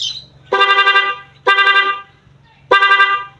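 Three loud, close honks from an aftermarket rapid horn on a motorcycle, each a rapid series of pulsing bursts separated by short pauses.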